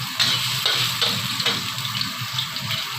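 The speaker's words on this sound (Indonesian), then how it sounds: "Panasin dulu wajannya pakai minyak. Oke, pertama aku mau masukin bawang putih." Garlic fries in hot oil in a wok, a steady close hiss and crackle that runs evenly throughout, with no voices over it.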